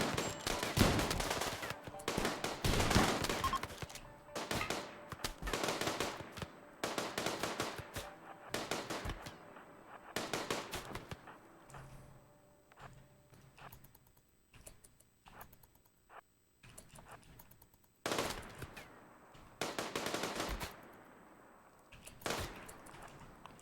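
Chain shotgun gunfire in RimWorld, repeated bursts of rapid cracking shots in clusters separated by short pauses, moderately quiet and with no talk over it.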